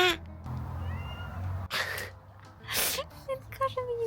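A cat at home answers with short meows, mixed with human voices imitating meowing and brief gasps and breathy sounds nearby.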